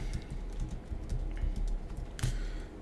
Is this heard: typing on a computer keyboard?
yes